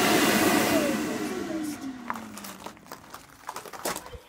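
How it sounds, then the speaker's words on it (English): A blower for a bouncy house starts out as a loud, steady whoosh and winds down, its hum sliding lower in pitch as it fades, leaving faint rustles and knocks. "Here's the blower that I was blowing. It's for a bouncy house, but whatever."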